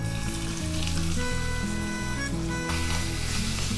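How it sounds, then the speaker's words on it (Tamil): Chopped large onions sizzle loudly in hot oil, a dense, continuous crackling hiss close up, with a low hum running underneath. "எண்ணெய் நல்லா சூடு ஏறிடுச்சு. இப்போ நம்ம நறுக்கி எடுத்து வச்ச பெரிய வெங்காயத்தை ஆட் பண்ணலாம்."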